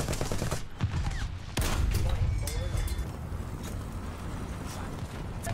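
Gunfire in the vehicle combat game War Thunder, several loud shots with booming impacts in the first two seconds, then a rumbling backdrop with lighter scattered reports.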